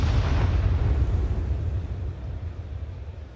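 A flashbang grenade goes off in Counter-Strike during a pro match, a loud low booming burst that rumbles and slowly fades, with no voices over it.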